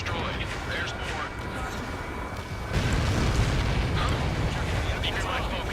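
An enemy transport blows up in Ace Combat 7, a sustained rumbling boom that swells about halfway through and stays loud and dense over ongoing game noise, with voices talking.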